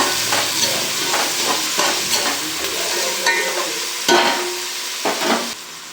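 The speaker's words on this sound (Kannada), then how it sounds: "ಟೊಮೊಟೊನ್ನು ಚೆನ್ನಾಗಿ ಫ್ರೈ ಮಾಡಬೇಕು" Tomatoes frying in a pan for chicken dum biryani crackle and sizzle loudly and up close, with a spoon scraping and stirring through them in irregular strokes, and no voices.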